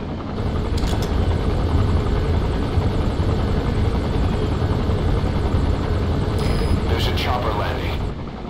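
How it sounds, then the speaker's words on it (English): A helicopter gunship in Metal Gear Solid V: The Phantom Pain approaches with a loud, continuous rotor drone and engine roar, heavy and close for the whole stretch, with a few sharp metallic game effects near the end. "The chopper will be arriving any minute."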